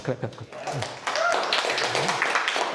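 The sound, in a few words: audience applause for a speaker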